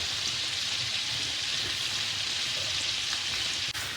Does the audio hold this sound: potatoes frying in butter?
yes